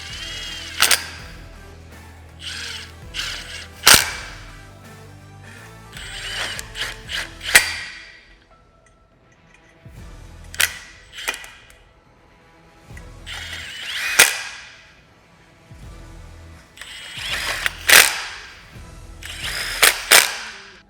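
Hand tools tightening roof rack hardware on a Polaris RZR XP 1000, a series of sharp metallic clicks and ratcheting bursts in irregular clusters, close and fairly loud with quiet gaps between.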